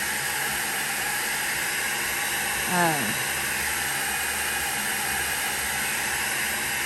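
Steady, high airflow blower hissing continuously while pushing alcohol inks across a surface for wispy fall-toned abstract art, with a brief louder swell midway; a voice speaks briefly.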